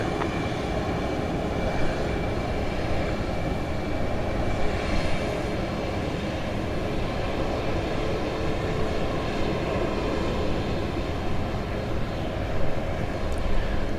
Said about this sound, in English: This is Southwest Flight 4585. It's going to Sacramento, California on that 737 MAX 8.